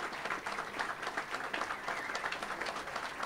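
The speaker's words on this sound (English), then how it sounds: "a great round of applause, please, for them and their families" A crowd applauds soldiers and their families at an outdoor statue dedication ceremony in New York City, steady sustained clapping at moderate distance, fairly soft, with no other sound.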